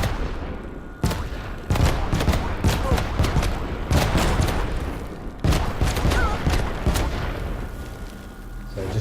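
Dense, chaotic battle noise from the game Worms WMD: rapid bursts of gunfire and repeated booming explosions pile up continuously at full loudness, with sharp impacts punctuating a thick roar of blasts.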